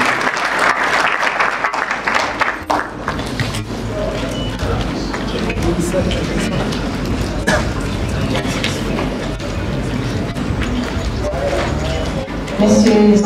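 Audience applause welcoming a colonel on stage at a youth conference, a steady dense wash of clapping with crowd noise and some talk underneath, continuing throughout and swelling louder at the end.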